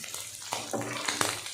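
Goat liver (kaleji) fries on a hot tawa and spatters loudly up close, with sharp bursts of sizzling and popping over a steady hiss.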